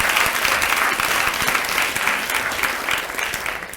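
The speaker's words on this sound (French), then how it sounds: "Oh ouais, on l'applaudit." An audience gives loud, sustained applause for an honorary doctorate from Université Laval, dense clapping from many hands that holds steady before easing slightly at the end.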